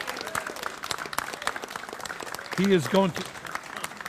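A live audience applauds the winner of a competition during an Irish traditional music webcast in the west of Ireland, with steady clapping throughout and someone talking over it.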